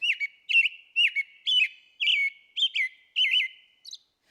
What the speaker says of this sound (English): So they can sing multiple notes at once and kind of layer them on top of each other to create this really melodious warbling sound.